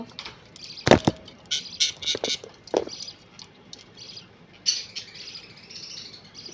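Pet birds, a male among them, chirp and tweet in short bright bursts with a few louder squawks, fairly close and heard alone.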